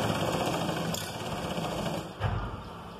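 A sewing machine runs steadily up close as it stitches all the way around the leg of a pair of loose pants. Its whir and hum continue unbroken, with a slight bump in tone near the end and no talk.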